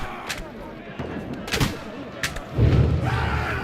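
A volley of gunfire in a Kingdom Come: Deliverance 2 battle: several sharp, separate shots crack over a busy din, then a heavier rumbling roar swells near the end.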